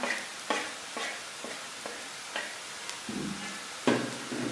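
Turmeric, salt, red chili powder and garam masala are stirred into hot oil in a pan for a sev tomato curry, with a steady sizzle under repeated scraping spoon strokes, close by and without talk.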